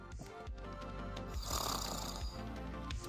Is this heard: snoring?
yes